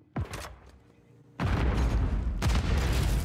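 Grenade blasts in Call of Duty Modern Warfare III multiplayer: a sharp explosion early on, then two heavier, loud booming detonations with rumbling tails amid gunfire.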